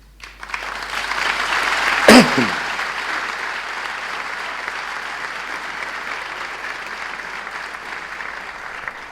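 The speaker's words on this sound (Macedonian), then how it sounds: "Вистинската добрина сплотува. Затоа ве повикувам да ги поздравиме и да им се заблагодариме со аплауз." An audience at a ceremonial academy marking 70 years of the Red Cross applauds in a steady, sustained wave of clapping that fills the hall and holds evenly to the end.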